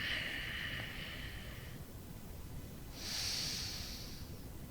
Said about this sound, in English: Slow, controlled breathing.